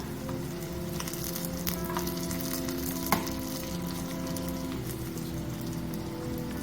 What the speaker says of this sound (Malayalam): ഡ്രൈ റെഡ് ചില്ലി, കുറച്ച് കറിവേപ്പില. ഇത് നല്ലപോലെ ഒന്ന് വഴറ്റിയെടുക്കാം.